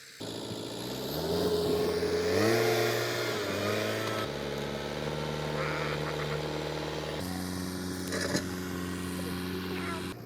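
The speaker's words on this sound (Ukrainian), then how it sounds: "Тим часом приїхав трактор та порозрівнював ділянку." A tractor's heavy diesel engine drones steadily nearby while leveling ground around a strip foundation, its pitch shifting as it works and changes load, with no voices over it.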